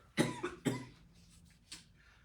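A woman coughs twice in quick succession and then gives a softer throat-clearing hack, all close and loud against a quiet room.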